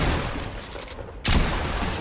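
Video game gunfire from a pump shotgun fight, two dense bursts of loud shots separated by a sharp sudden blast midway, close and harsh.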